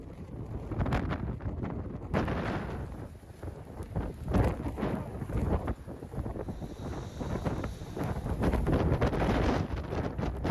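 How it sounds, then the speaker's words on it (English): Wind from a lake effect snow blizzard in Buffalo roars and gusts loudly and steadily close to the microphone, with rough buffeting bursts and no voices. "Wow, I get goosebumps just listening to the wind."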